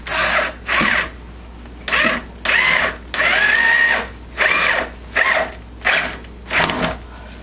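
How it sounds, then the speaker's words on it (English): Power drill driving screws into the side of a MAME arcade cabinet monitor shelf, running in about eight loud, close bursts of a second or less, separated by short pauses. "we're going to run some more screws up each side"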